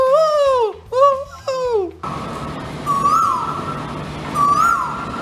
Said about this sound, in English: Maybe the tenant was previously one of those birds that keep making this noise.